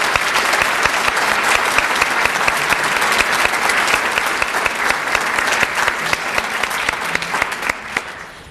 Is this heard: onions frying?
no